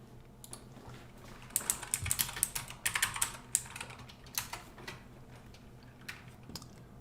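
Rapid typing on a computer keyboard, a run of light, uneven clicks and taps that cluster into bursts and pause briefly, heard close and fairly quiet with no talking.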